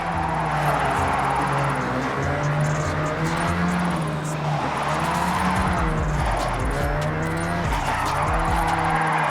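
A car drifts in the Forza Horizon 6 racing game, its tires squealing in long wavering tones over a loud engine roar that rises and falls throughout.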